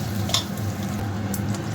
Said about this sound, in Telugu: చూడండి కరివేపాకు వేస్తున్నాను. తాలింపు అంతా వేగుతుంది.